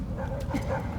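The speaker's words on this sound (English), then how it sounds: "set the dogs on me." Dogs in an Ace Combat 7 video game cutscene give a brief burst of barking and whimpering yips, close and fairly loud, over a low background hum for about a second.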